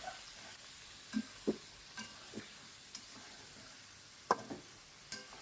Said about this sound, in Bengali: ভালো মতো নেড়ে চেড়ে আমি মাংসটাকে তেলের মধ্যে ভাজা ভাজা করে নিচ্ছি।